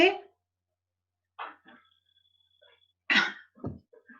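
A few separate coughs, a short one at the start and a louder, harsher one later, with faint background noise between them.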